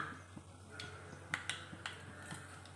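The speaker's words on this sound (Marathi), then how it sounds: "मोहरी छान तडतडले" Mustard seeds spluttering in hot oil while tempering for a Maharashtrian-style dal, heard as scattered sharp pops and crackles over a low steady hiss, fairly faint and close, without talk.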